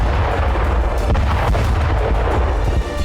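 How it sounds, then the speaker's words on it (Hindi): Explosions at a Russian weapons depot near Belgorod rumble in a dense, continuous barrage of booms and cracks, loud and close throughout with no voices. "पहले धमाके में रूस का एक गोदाम तबाह हो जाता है"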